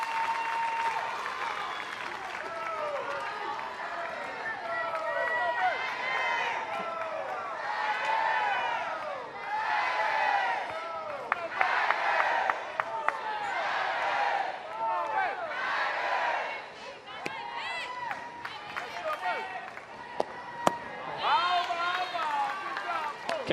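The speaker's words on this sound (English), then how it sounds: "Can hear the crowd getting louder as the game goes" A college softball crowd cheers and applauds continuously throughout, with a commentator talking over the steady roar and occasional sharper claps and shouts.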